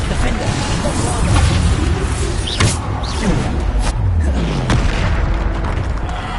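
In Hogwarts Legacy, the Bombarda spell sets off repeated booming blasts, with sharp magical bursts and crackling impacts overlapping in a busy, loud run of spell effects, and a voice can be heard among them.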